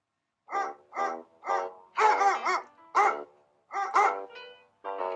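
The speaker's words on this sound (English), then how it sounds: "here is our video of a basset" A basset hound barks from a played video in a quiet room, giving a series of deep, clear barks and bays in uneven bursts, with a short whine near the end.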